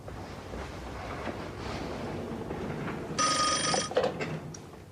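An old-style telephone bell rings indoors in a domestic drama scene, a bright trilling burst of about a second that stops and is followed by a few short clicks against steady background hiss.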